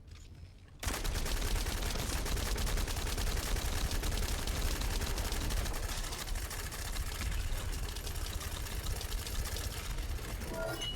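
Light machine gun firing in the video game The First Descendant, a sustained rapid stream of loud automatic shots starting after a brief quiet moment and rattling continuously for about ten seconds.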